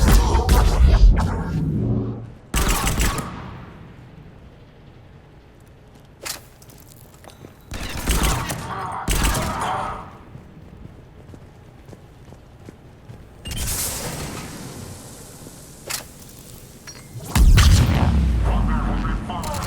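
A firefight in the Mass Effect game on the Omega station: loud bursts of weapon fire and booming shots come in irregular clusters, separated by quieter stretches.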